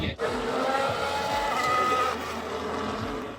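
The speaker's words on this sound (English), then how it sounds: "it did a great job capturing the sounds of the F1 engine zooming past us" A Formula 1 car engine at the Singapore Grand Prix roars loudly past at night, its high-pitched whine rising and falling through a sustained pass-by and fading slightly at the end.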